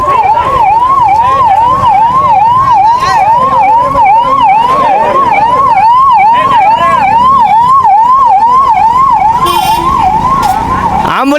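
An ambulance siren wails loud and close in a fast, regular up-and-down cycle that repeats without a break, with road and vehicle noise underneath and a brief burst of other noise near the end.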